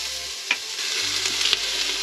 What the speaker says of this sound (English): turn it on to saute. Alright, we're going to start off by adding our onions